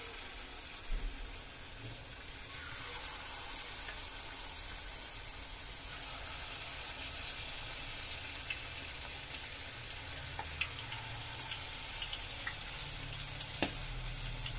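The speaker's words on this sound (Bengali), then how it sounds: "এবার আমি এক এক করে আস্তে আস্তে এটা ছেড়ে দেব।" Chicken malai pakora frying in hot oil in a home kitchen, a steady close crackling sizzle that runs throughout with occasional sharper pops and no talking.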